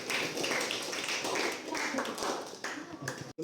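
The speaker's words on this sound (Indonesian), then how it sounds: "Beri tepuk tangan untuk Rizal dan Jana" A classroom of students claps for two classmates after a lesson presentation, a brief, moderately quiet burst of applause that cuts off near the end.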